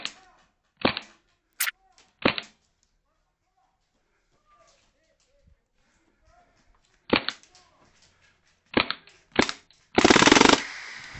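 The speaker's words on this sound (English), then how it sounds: "This Uzi performs really well when it's shooting, but it can't handle the cold temperatures." An airsoft Uzi submachine gun fires outdoors in cold weather, with several short, sharp bursts and single pops separated by quiet gaps, ending in a longer sustained burst of rapid fire.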